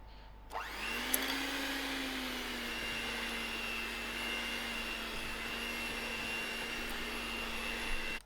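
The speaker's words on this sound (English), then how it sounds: "I will give this mixture a quick mix to get some of the lumps of the flour out." An electric mixer whirring through banana loaf batter to break up flour lumps, a steady high motor drone that starts abruptly and runs evenly for several seconds before cutting off.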